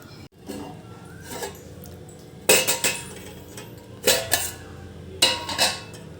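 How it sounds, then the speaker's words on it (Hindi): Green tea added to a vessel of hot water and then covered with a lid, heard as three sharp ceramic or metal clinks and knocks, close, with quiet room tone between them. "अब इसमें डाल देते हैं हम ग्रीन टी और इसे ढक देते हैं"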